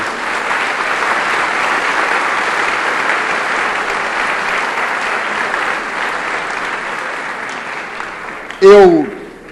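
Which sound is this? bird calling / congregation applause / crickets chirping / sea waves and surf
congregation applause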